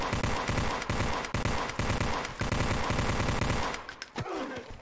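Rapid automatic gunfire in the first-person shooter Blockade, loud close bursts with short gaps that stop toward the end, leaving a few softer shots and thuds.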